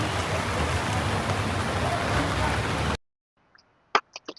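Steady rain hisses for about three seconds, then cuts off abruptly, leaving near silence broken by a few short, sharp knocks.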